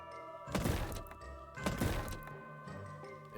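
Two dull, identical thunks of shots hitting in DreamCell: Lost in Nightmares sound about a second apart, loud and close over a sustained musical backdrop.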